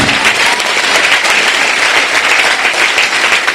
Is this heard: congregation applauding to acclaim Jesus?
yes